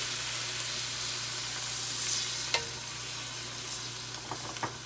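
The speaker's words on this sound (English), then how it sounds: "Now we're going to add in our coconut milk." Coconut milk poured into a pan of sizzling Thai green coconut curry, a steady close frying hiss with occasional stirring clinks and bumps, no voices.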